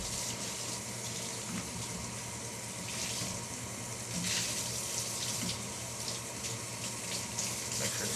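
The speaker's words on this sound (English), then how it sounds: "And run the hot water through the one straw piece." Hot water runs from a tap through a straw piece for a reusable cup, a steady close hiss and splash over a sink with a faint low hum underneath and no talking.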